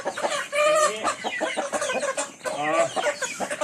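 Fighting roosters bred for cockfighting crow and cluck loudly and close by, with raspy, overlapping calls filling the short stretch on a breeding farm.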